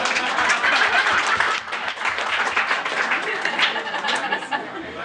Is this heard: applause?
yes